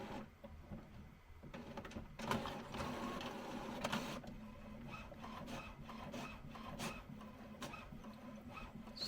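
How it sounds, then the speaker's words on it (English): An HP 8135e printer running print head alignment and printing the alignment page, with a continuous mechanical rubbing and whirring of moving parts, steady and close, with brief louder surges. "print head alignment, as well as printing the alignment page"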